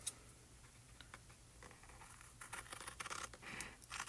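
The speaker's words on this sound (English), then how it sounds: "this is where these scissors come in." Scissors snip through a card base of card stock at a papercraft table, a run of faint, close crisp cuts building toward louder scratchy slices near the end, with no talking.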